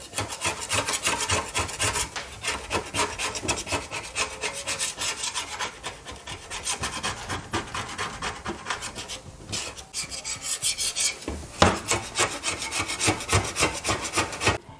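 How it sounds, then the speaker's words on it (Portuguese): A Condor spatula scrapes old paint off a wooden window, quick rasping strokes repeating steadily and close for the whole stretch, with no talking. "Já estou concluindo aqui com muita eficiência a raspagem da tinta velha aqui da janela"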